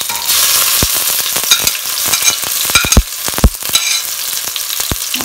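Chopped onion and chilies frying in a pan with oil, a continuous close sizzle with scattered stirring scrapes and taps from a spoon, no voices.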